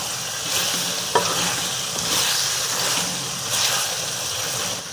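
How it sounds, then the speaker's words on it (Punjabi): Chicken being sautéed in a pot for chicken aloo salan, a steady loud sizzle with the scrape of stirring and a sharp clink of the spoon near the start. "ਅਸੀਂ ਮਜ਼ੀਦ ਇਹਨੂੰ ਥੋੜਾ ਜਿਹਾ ਹੋਰ ਭੁਨਾਂਗੇ ਤੇ ਇਹ ਤਿਆਰ ਹੋ ਜਾਏਗਾ ਬਿਲਕੁਲ"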